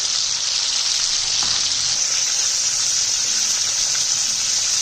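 Chicken seekh kababs fry in a pan with a dense, steady sizzle that holds close and loud throughout, with no one speaking.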